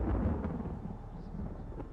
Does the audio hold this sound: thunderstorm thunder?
yes